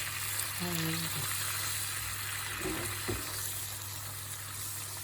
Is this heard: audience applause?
no